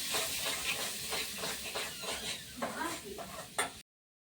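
Onions frying in a pan with spices while a bitter gourd curry is cooked, giving a soft steady sizzle with stirring scrapes, faint and close, and a voice talking over it before it cuts off.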